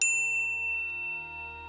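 A single bright notification ding strikes at the start and rings out as a clean, fading tone over faint background, alone with no talk.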